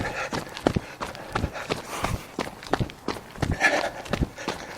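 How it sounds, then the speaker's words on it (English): Running footsteps on a wooden bridge, Roy's Bridge, during a solstice run: steady, fairly loud footfalls at a brisk rhythm, close by, with some outdoor background noise. "You'll notice the sound of my footsteps changing."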